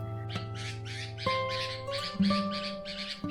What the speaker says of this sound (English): You'll hear all these little bird calls in the background.